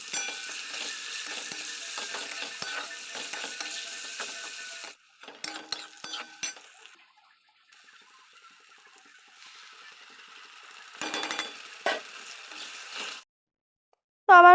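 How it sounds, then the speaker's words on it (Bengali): Spices and potatoes fry in a pan during curry cooking, with patches of hissing sizzle broken by quiet gaps and short bursts of stirring and scraping. "মশলা কষানো অর্ধেক হয়ে গেছে"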